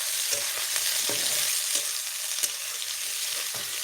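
Chopped onion and green chilli sizzle and fry in a pan for kanda poha, with a spoon stirring and scraping in repeated close knocks over a continuous hiss.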